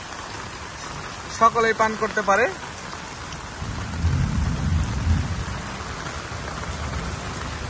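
Rain falling steadily during a thunderstorm at a garden house, with a low rumble of thunder rolling in partway through; a person speaks briefly over the rain early on.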